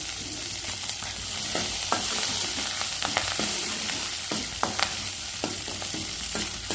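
Steady sizzling of curry leaves sautéing in a pan, with scattered clicks and scrapes of stirring throughout.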